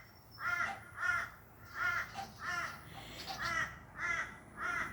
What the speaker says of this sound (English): We have sort of a cross between crows and ravens here